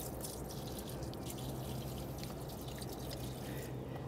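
Water spilling onto a rubber floor mat inside a Rivian vehicle, a steady close splashing and dribbling wash of liquid that runs continuously without a break.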